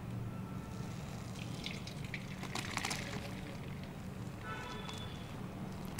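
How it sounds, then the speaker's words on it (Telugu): Curdled milk for paneer is poured through a cloth-lined strainer, giving a soft, steady liquid trickle and splash. A few brief clinks come through near the middle, and the sound stays fairly quiet throughout. "ఓకే, వడబోసేసుకుందాం"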